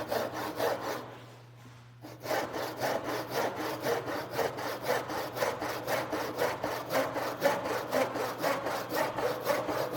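A hand saw cuts a dado into softwood with steady, rhythmic rasping strokes that continue close and clear, with one brief pause near the start.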